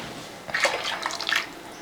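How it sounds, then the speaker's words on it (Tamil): Water is poured into a pot of home-style okra curry with ground masala, a brief close splash and trickle lasting about a second against a quiet kitchen background, without talk. "இன்னும் கொஞ்சம் தண்ணி சேர்த்துக்கலாம்"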